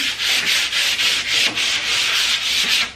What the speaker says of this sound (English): And just scuff sand, simple as.